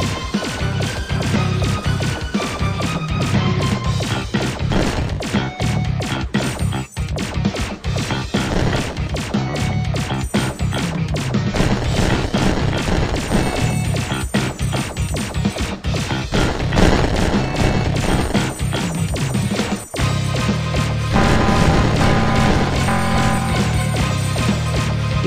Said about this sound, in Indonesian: Seret pesawat ruang angkasa untuk menembakkan bola meriam dan mengalahkan musuh.